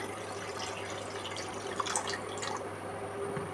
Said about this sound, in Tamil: அதில் தேவையான அளவுக்கு தண்ணியை ஊற்றிக்கிங்க.